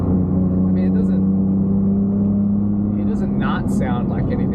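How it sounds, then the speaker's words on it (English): Engine and exhaust of a 2019 Ford Raptor while driving, a steady low drone with faint exhaust note, continuous and close, under someone talking throughout. "You can hear some exhaust back there, but it definitely doesn't sound like the V8."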